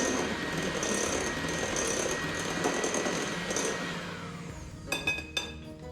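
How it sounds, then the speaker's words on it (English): An electric hand beater runs steadily on low, whisking dry cake ingredients together for about four seconds before winding down, followed by a few light knocks and clatters. "I'm just going to whisk those dry ingredients together real quickly. And you can actually use your beater for this"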